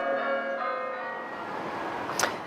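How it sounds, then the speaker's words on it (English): Catholic church bells in Indianapolis ring for a newly elected Pope with a sustained, resonant tone that fades over a couple of seconds, heard moderately loud with some background noise. "church bells rang at Catholic churches across Indianapolis"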